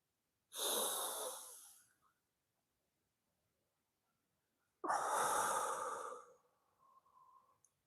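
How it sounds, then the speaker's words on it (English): Two long, deep breaths during a seated chair workout for seniors, each a loud, airy rush of about a second and a half, spaced a few seconds apart with near silence between. "take another deep breath out"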